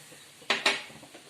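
Chicken being mixed with red chilli paste, tomato sauce and soy sauce in a bowl, two quick close clinks of utensil against dish followed by soft wet stirring.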